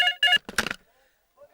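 A telephone rings in two short bright electronic bursts, close and fairly loud, followed by a brief murmur of voices and then near silence.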